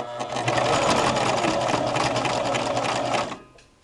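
A sewing machine stitches patchwork fabric placemats, running at a steady fast whirring pace for about three seconds before stopping, close and loud with no talk over it.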